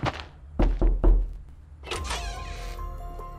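A door opens in the Fortnite video game with a few soft thumps and knocks followed by a sliding, whirring movement, fairly quiet and close, with no talking.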